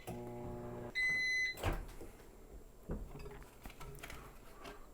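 A microwave oven set to 50% power for 45 seconds, heating a pepperoni pizza quesadilla under a paper towel, gives off a steady low hum. A loud electronic beep follows, then light clatter and handling noises.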